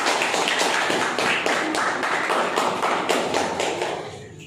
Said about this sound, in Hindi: तालियां बजाओ तो गुलजार के लिए।